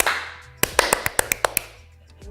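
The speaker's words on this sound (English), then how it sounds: "can you clap first and foremost?" A quick burst of about eight sharp, close hand claps in a fast, even rhythm, each a crisp snap standing alone over a quiet room.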